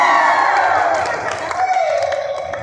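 A church congregation at a parish in Novaliches, Caloocan claps and cheers together, a loud dense wash of hands and voices with a preacher's voice over it.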